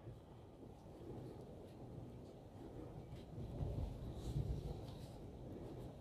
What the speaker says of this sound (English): And that rain is coming.